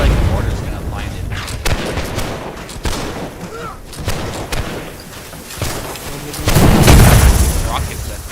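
Rockets exploding across a battlefield in the video game Hellish Quart, heard as a string of sharp booms and thuds at irregular intervals, ending in a louder, sustained rumbling blast, with voices talking over the mix.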